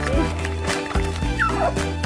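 A puppy waiting for treats gives brief high whimpers and whines over a steady indoor hum, with people talking nearby.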